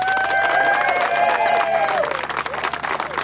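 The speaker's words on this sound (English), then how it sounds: "I knew I'd get applause somehow." An audience at the dedication ceremony of Tall Pines State Preserve claps and cheers in a dense burst of applause, which thins out toward the end while voices carry through the crowd noise.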